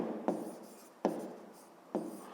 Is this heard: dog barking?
no